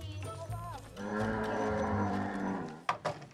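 A reluctant cow moos in a long, loud, drawn-out low bellow close by, preceded by shorter grunting calls and followed by brief thumps and noise as it fades out.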